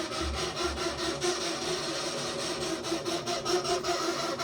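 A broken Broan 663/688 bathroom exhaust fan running: a steady, loud grinding rasp with a scraping, rhythmic rubbing texture, the motor straining and catching as it runs continuously.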